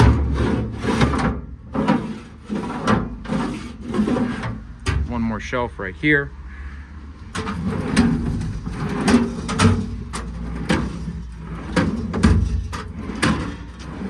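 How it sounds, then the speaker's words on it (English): American Eagle twist-lock drawers in the service body of a 2024 Ford F550 extended-cab diesel work truck slide open and shut, giving repeated short wooden-sounding rubs and knocks, with someone speaking briefly in the middle. "These drawers all slide extremely smooth."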